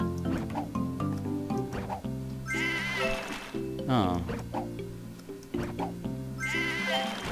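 Cartoonish sheep bleats from the puzzle video game Divide By Sheep, repeated over constant game music and effects, with a player talking over them.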